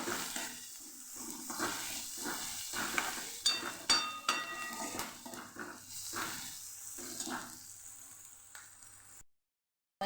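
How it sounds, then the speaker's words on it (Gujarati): Onions sauté in a pan with a little water for a Kathiyavadi sev-onion curry, giving a soft, steady sizzle with occasional stirring scrapes and clinks, fairly quiet and without speech. "ડુંગળીને જે આપણે થોડી સાતળવાની છે"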